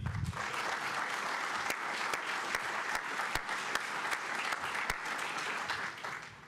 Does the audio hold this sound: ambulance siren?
no